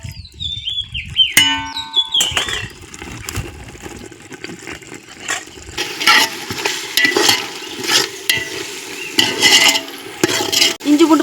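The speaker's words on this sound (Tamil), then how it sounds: "இஞ்சி பூண்டு இப்போ நல்லா வதங்கிடுச்சு." Ginger garlic paste frying in a pot over a wood fire, with loud close stirring and scraping strokes over a crackling sizzle, preceded by brief clattering and a whistling tone at the start.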